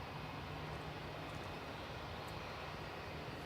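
A Vueling airliner taxiing at Manchester Airport, heard as a steady broadband jet engine rumble and whine at moderate distance, continuous and unchanging throughout with no talk.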